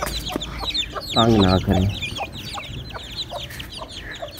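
Aseel chickens cluck close by during vaccination, a busy mix of short clucks and one louder drawn-out squawk, with someone speaking briefly over them.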